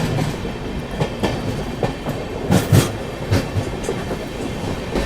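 Jaipur–Mumbai Superfast Express 12956 running on the main line toward Kota, heard from on board as a loud, steady rumble with rhythmic clickety-clack of wheels over rail joints and occasional heavier thumps.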